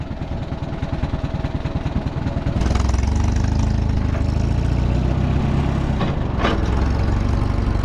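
Allis-Chalmers WD 45 tractor engine idling, a loud, close, rapidly pulsing mechanical chug that thickens and grows louder partway through, holding steady under a brief higher whine near the end.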